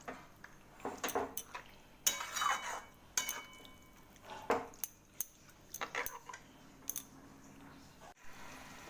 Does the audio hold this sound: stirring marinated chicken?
yes